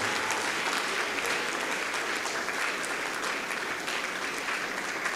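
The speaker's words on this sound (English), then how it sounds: "Clap your hands together properly for Jesus this morning." A church congregation clapping hands during a Sunday morning service, continuous and dense, many hands clapping together at an even, sustained loudness throughout.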